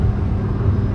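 An MG Astor driven at top speed on a road gives a steady, loud low rumble of engine and wind noise, unbroken for about a second.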